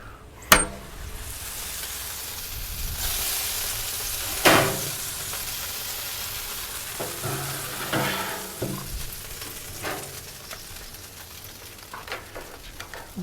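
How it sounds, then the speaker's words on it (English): Chicken sizzles steadily in hot oil in a fryer, with occasional clanks and scrapes of utensils or a basket. No one speaks. "You can hear it sizzling in there."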